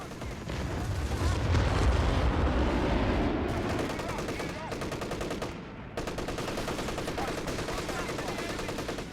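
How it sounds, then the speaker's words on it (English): Dense, loud airstrike explosions and rattling gunfire in the Company of Heroes 3 video game roar continuously, with rapid overlapping bursts and booming blasts throughout. "Airstrike incoming!"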